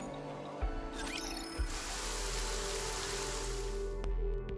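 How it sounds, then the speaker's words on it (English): Heavy rain pours steadily as a dense, constant hiss in a NIKKE video game scene, with a couple of soft thuds near the start and a faint click near the end, no voices. "Man, it's really pouring."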